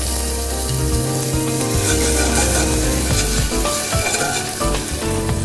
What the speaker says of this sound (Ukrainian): Обсмажуємо на оливковій олії.